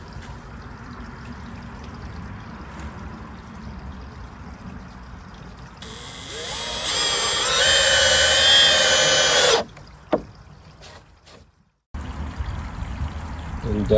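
Screws driven through Millboard composite deck boards with a power drill during deck installation, a sustained loud whirring burst of several seconds that cuts off abruptly, followed by brief knocks and quieter background.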